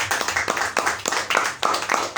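A church congregation claps in a quick, uneven burst of hand claps lasting a couple of seconds, close and fairly loud.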